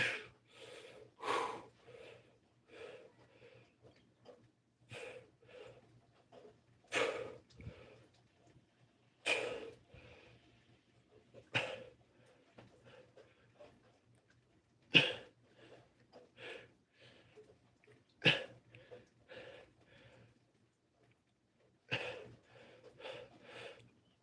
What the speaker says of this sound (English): I'm panting like a dog now, like that guy wanted.